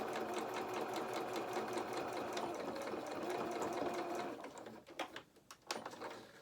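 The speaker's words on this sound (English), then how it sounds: "I'm going to do another stitch and then try again" A sewing machine runs a fast, even, rattling stitch along a fox head doll's ear seam, heard quietly and up close, then slows and stops with a few scattered clicks near the end.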